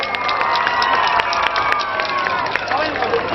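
A crowd at a dandiya event in Nashik, during an actor's visit to a local community group, cheers and shouts with scattered claps, a lively, close mix of excited voices and sharp hand claps.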